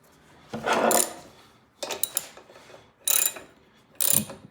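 Ratchet tightening a part on a Briggs and Stratton lawnmower during a no-start repair, heard as four separate bursts of ratcheting clicks, close and fairly loud, with short pauses between them.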